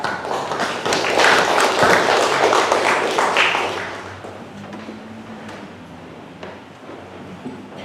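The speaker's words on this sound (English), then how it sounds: "give him a little round of applause" A church congregation at a morning service gives a short round of applause. The broad, fairly loud clapping runs for about four seconds, then thins into quieter scattered taps and room noise.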